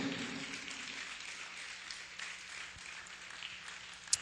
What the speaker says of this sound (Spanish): Le da un aplauso a usted al Señor por eso, hermano.